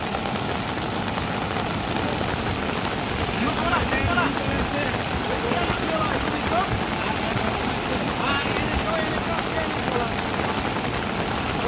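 Steady rain falls through a city street in Surat during a monsoon day, a constant dense hiss of drops on surfaces with faint traffic rumble underneath.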